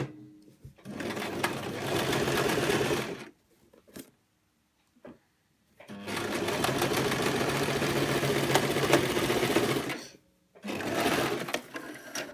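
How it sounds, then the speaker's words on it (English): Sewing machine stitching across the base of a bag to box the corners, running in two long steady bursts with a pause between and a short final burst, close and loud with no talking over it. "Switch off the sewing machine."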